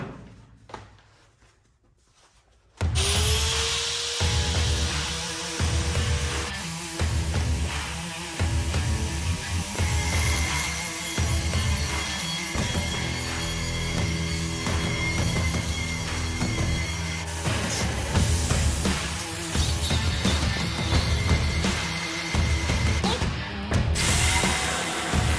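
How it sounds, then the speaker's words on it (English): A 4-inch cutoff wheel grinds through a metal part, a loud continuous abrasive whine and screech with shifting pitch as the blade bites, starting abruptly after a quiet moment. "I'm just going to use a simple 4-inch cutoff wheel"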